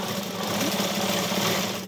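A sewing machine runs steadily and close by as it stitches the lining of a blouse, a continuous mechanical whir with a fast, even needle rhythm.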